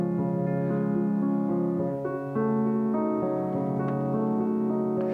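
Flowing piano phrase with bass and melody moving together, notes connected smoothly over several seconds, alone without talk.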